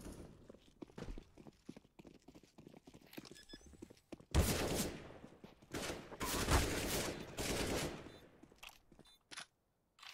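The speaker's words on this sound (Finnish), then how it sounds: "Kato, kun tuolta tulee joku vihu jostain ja ampuu mut." Enemy gunfire in a Counter-Strike round: quiet footsteps and movement give way to a sudden loud flurry of rapid shots with crackling bursts, then a few more volleys before fading out; no talking.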